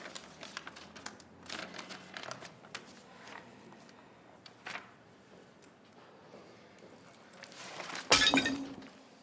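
Glass breaks and shatters in a home: a sudden loud crash near the end, preceded by faint clinks, rustles and scattered handling noises in an otherwise quiet room.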